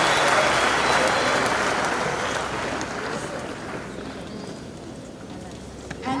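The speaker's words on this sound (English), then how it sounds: "So a big round of applause for CBZ in" Crowd applause for CBZ Bank at a presidential launch of a football challenge cup, a dense wash of clapping that starts loud and slowly thins out over several seconds.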